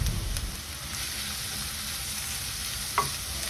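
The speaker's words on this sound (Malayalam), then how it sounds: "അതിലേക്ക് അരിഞ്ഞു വെച്ച ചെറിയ ഉള്ളി ഇട്ട് വഴറ്റാം." Chopped shallots sauté in coconut oil in a kadai, a steady, close sizzle and crackle that holds evenly throughout, with one brief clink near the end and no voices.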